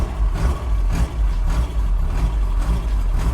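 Engine of a 1965 Mini Cooper S rally car running, a loud, close, steady low rumble with a rough pulsing throb that continues without a break.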